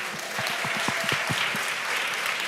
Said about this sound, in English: Can we get one more round of applause?